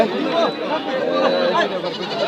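Goats bleat amid a busy livestock market crowd in Bangladesh, their wavering cries rising over steady chatter and voices.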